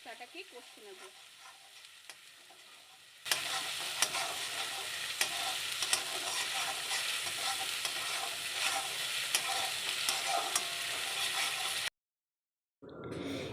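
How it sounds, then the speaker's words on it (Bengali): Garlic, ginger and green chili paste sizzling and being stirred in a pan for a prawn curry, a loud, steady fry with scraping after a quiet start, cutting off abruptly near the end. "এই মশলাগুলো দিয়ে ভালো করে কষে নিচ্ছি আমরা।"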